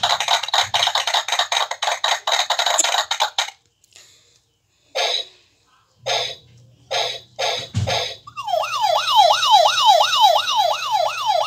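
A toy sound machine phone plays an electronic wailing siren, loud and close, in a rising and falling sweep after some earlier bursts of button clicks and noise.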